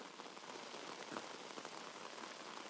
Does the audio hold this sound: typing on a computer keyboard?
no